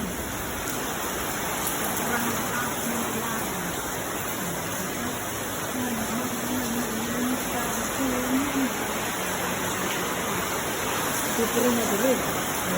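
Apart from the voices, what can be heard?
heavy rain in Singapore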